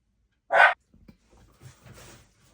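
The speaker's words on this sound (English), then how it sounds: "Apologies, my dog is barking." A dog indoors gives a single short, sharp bark, close by. Faint breathy shuffling and soft background noises follow.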